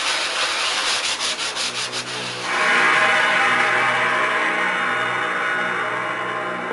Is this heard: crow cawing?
no